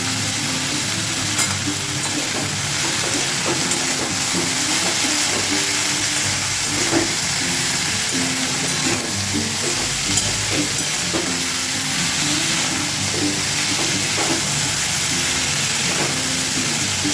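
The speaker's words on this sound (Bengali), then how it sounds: "আবার এটা ঢাকা দিয়ে কিছুক্ষণ ভেজে নেবো।" Pumpkin and other vegetables with a spoonful of turmeric frying in a pan, a steady close sizzle with soft stirring scrapes running throughout.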